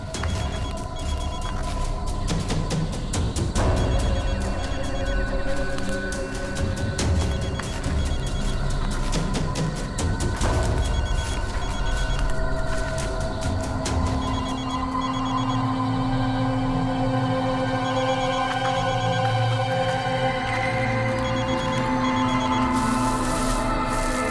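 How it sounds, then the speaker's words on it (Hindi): A mobile phone buried under soil rings faintly and muffled, its ring repeating steadily beneath a dense, continuous layer of background noise and music-like tones. "सर, घंटी की आवाज काफी धीमी आ रही है।"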